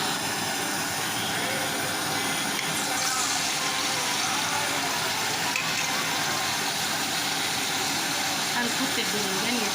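Eggplant frying in a couple of spoonfuls of oil alongside hot and mild chili peppers on a kerosene stove, a steady dense sizzle mixed with the roaring hiss of the burner, continuous and close throughout.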